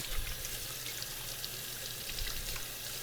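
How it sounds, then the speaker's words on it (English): Water runs from a kitchen tap as something is rinsed off while cooking chicken pozole verde, a continuous close hissing splash with no talk. "Rinse that off."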